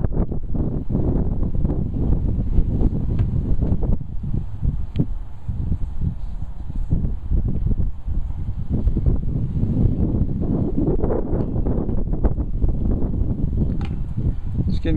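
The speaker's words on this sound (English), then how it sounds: "It's getting kind of windy. I hope that's not interfering." Gusty wind buffets a microphone outdoors, a constant rumbling roar that swells and eases across the whole span with scattered rustling, and no voices.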